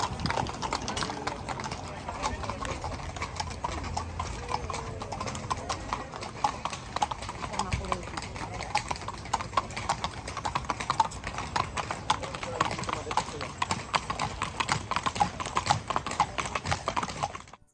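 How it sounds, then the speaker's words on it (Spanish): Horse-drawn carriages in a pilgrimage procession on horseback give a dense, continuous clip-clop of many hooves on hard ground, with overlapping rhythms growing somewhat louder toward the end, while faint voices murmur underneath. "ahora hay muchísimos más coches de caballos que los que había al principio"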